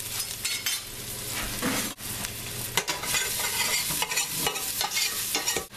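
Sliced garlic cooks in olive oil in a pan over medium heat, with a dense continuous sizzle and frequent close stirring scrapes and knocks.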